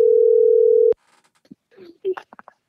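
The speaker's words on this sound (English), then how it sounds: "Let me get Batman on the phone" Steady telephone tone while placing a call, one continuous flat note held for almost a second, loud and close, then cut off and followed by someone talking.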